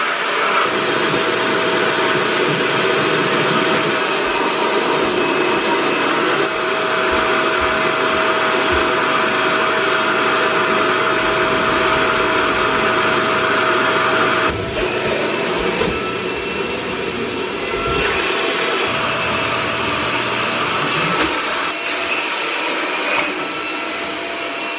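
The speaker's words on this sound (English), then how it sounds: "get vacuuming" A household vacuum cleaner runs continuously while cleaning a home, a loud close whirring roar with steady motor whine that shifts in tone as it moves across surfaces, with no talking over it.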